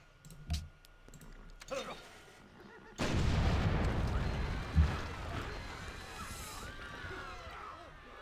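Cannon attacks in Civilization V land with a heavy booming burst and rumbling blast that follow a few sharp clicks, fairly faint overall.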